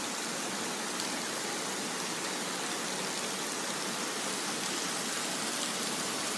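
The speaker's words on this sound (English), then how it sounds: "It's warm rain opposed to England's cold rain." Warm, torrential rain falling in Sharm el-Sheikh, Egypt, as a dense, even hiss of water, steady and fairly faint, with no voices.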